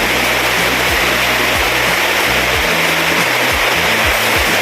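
Diguisit Falls in Baler, Aurora pours as a loud, constant broadband roar of rushing water, close and unbroken throughout, with low wind-like rumbling bursts underneath.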